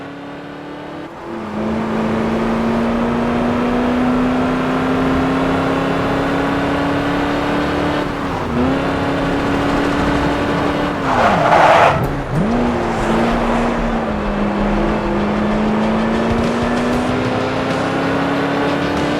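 Cars racing in the Xbox 360 game Crash Time 5: Undercover, a continuous loud engine drone holding pitch with brief dips as gears shift or the car swerves, plus a short burst of tire noise midway; no voices.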